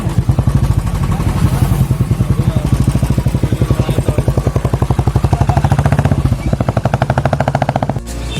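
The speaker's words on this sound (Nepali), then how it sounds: "बाइक गर्दै जान्छ।" A loud, close motorcycle engine carrying three riders in the Kapilvastu area chugs in a fast, steady rhythmic throb, cutting off abruptly near the end.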